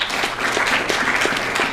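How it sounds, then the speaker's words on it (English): An audience applauds for a guest at a Paul Verhoeven tribute event, giving dense, steady, fairly loud clapping from a crowd throughout the short stretch with no break. "Clap for him, please."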